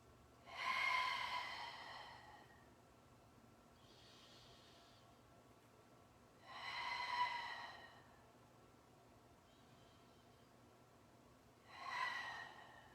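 Three slow, deep breaths during a home yoga class, each a broad airy rush lasting about a second, spaced several seconds apart in an otherwise quiet room with faint breathy pauses between them.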